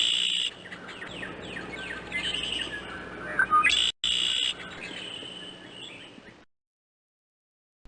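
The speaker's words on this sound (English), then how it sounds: "Blackbird." Blackbird chirps and whistled calls in a 1993 DOS PC game of The Tale of Peter Rabbit, a busy run of bright repeated tweets over a steady background, ending abruptly in silence.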